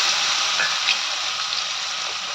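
Chopped onions hissing and sizzling as they hit hot oil while a dried fish curry is being made, a steady close frying crackle throughout with no voices.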